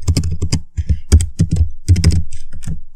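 Computer keyboard being typed on while entering code, quick close bursts of crisp key clicks and thumps in uneven clusters with brief pauses, loud and clear with no speech.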